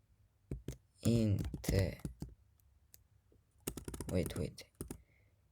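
Someone types Python code on a computer keyboard, with close, crisp key clicks in two separate flurries broken by a pause, and a voice speaking alongside.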